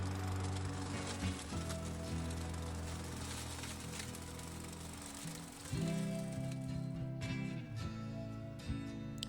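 A small engine runs steadily nearby like a lawn mower, its pitch rising and dipping as the load shifts.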